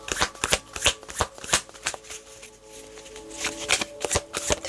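Tarot cards are shuffled by hand in a series of quick, close riffling bursts with short pauses between them, crisp papery flutters repeating throughout, with no voice.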